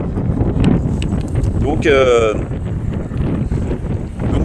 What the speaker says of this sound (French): vous pouvez entendre qu'il y ait du vent quand même